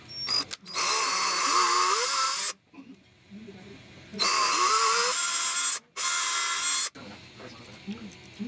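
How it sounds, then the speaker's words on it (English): A small electric drill whines in several bursts while drilling mounting holes for a limit switch, with short pauses and handling noises between runs. "Drill the holes."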